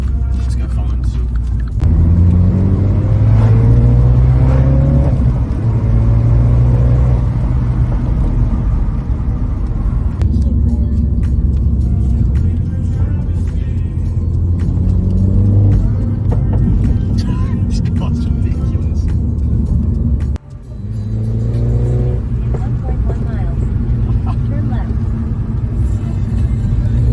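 A salvage-rebuilt Mini John Cooper Works on a long road trip drives along with a steady low engine drone and road rumble from inside the cabin, broken by a brief dip partway through.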